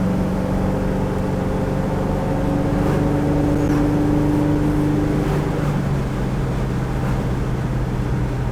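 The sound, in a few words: 1969 Ford Mustang Mach 1 with built 351 engine driving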